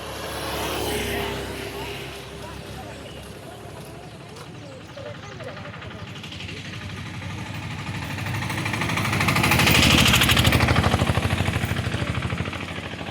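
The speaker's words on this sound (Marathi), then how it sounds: "अशा गाड्यांचा आवाज येतोय रस्त्याच्या कडेला असल्यामुळं" Vehicles pass along a roadside beside a chrysanthemum garden on an overcast, rainy-looking morning, a steady engine rumble swelling near the end as one draws closer, with people talking over it throughout.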